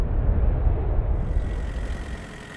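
A steady car engine hum with a low rumble, fairly close and continuous, fading slightly toward the end.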